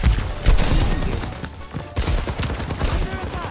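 Rapid bursts of gunfire in a shooting video game, several sharp cracks and rattling shots close together with loud, dense impacts and no speech.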